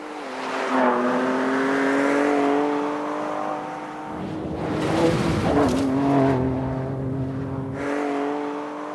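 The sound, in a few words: twin turbo V6 engine revving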